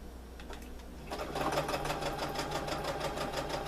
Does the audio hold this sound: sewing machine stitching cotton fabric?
yes